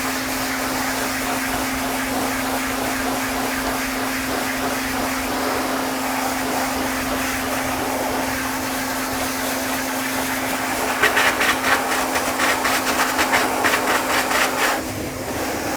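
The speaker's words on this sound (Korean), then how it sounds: "강아지가 드라이 바람을 무서워하면 드라이기를 흔들다기보다는 손을 부드럽게 터치해주면서 말려주세요." A hair dryer drying a dog after a bath at a self-service dog wash, a steady loud whirring hum throughout, with a rougher, pulsing flutter near the end as the airflow shifts.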